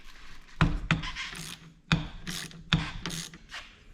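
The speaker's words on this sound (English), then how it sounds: "we have a 17 millimeter, and we got to break it loose first." A 17 mm ratchet breaks loose and turns the rebound adjuster on the KYB front fork of a 2022 Beta 300 Race Edition: close clicking ratchet pulls in four sharp bursts, with rubbing metal sounds between.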